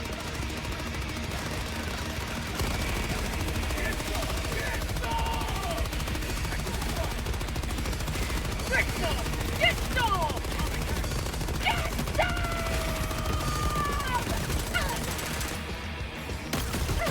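Machine gun sentry in Helldivers 2 fighting the Illuminate, rattling off sustained bursts of automatic fire amid a dense battle din, with scattered effects and occasional voices underneath.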